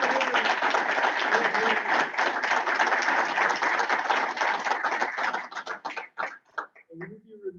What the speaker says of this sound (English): I think we can now officially have our round of applause